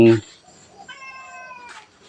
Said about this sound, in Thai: แล้วก็นี่อีกหนึ่งเหมียวคือบุญ